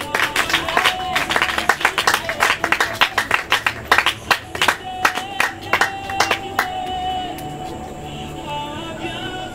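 Church congregation claps in distinct, rhythmic rounds with cheering voices, the loud unison claps gradually thinning out over several seconds and settling into a quieter murmur.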